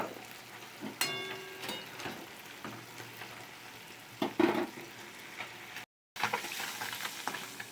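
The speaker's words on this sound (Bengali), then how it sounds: "মাছটা বেশ কড়কড়া করা ভাজা হয়ে গেছে" Fish crackling and sizzling steadily in hot oil until crisp, a close, continuous spatter with occasional sharper pops and stirring scrapes, no voices.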